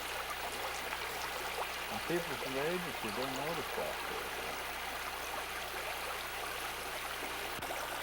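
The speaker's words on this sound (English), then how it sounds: "This is this one on my right comes out of the North Fork Creek." North Fork Creek water runs in a steady, even rush throughout, with a voice talking briefly over it.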